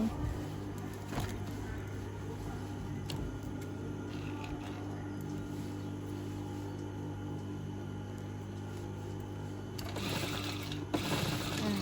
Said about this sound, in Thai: กลับด้านมาเย็บอีกด้านหนึ่ง